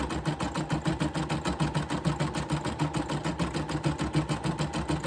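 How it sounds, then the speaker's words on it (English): An embroidery sewing machine stitches a zigzag underlay beneath satin stitching in appliqué work, running steadily with a fast, even mechanical rhythm, close and alone. "This is just a zigzag stitch that goes up underneath your satin stitch to make it a better stitch"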